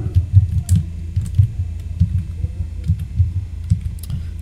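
Keys on a computer keyboard are tapped in quick irregular bursts, close and fairly loud, with no voice over them.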